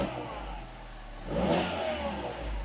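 The engine of a rare project car bought for under £5K, later crashed, revs briefly over a rough idle, swelling in a quick rise and easing off, close and moderately loud.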